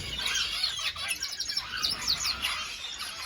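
Canaries and tropical finches in an aviary give a busy run of high chirps and tweets, fairly faint against a soft background hiss.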